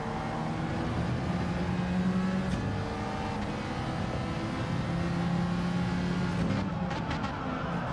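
A Ferrari race car in a racing video game at Brands Hatch, its engine a steady droning whine that holds level throughout with a slight rise near the end, mixed under other cars' engine noise.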